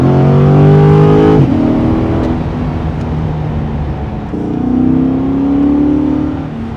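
A 2023 Corvette C8 engine revs hard at full throttle from inside the car, loud and close, climbing in pitch, dropping briefly at a shift, then pulling up again, with no talking.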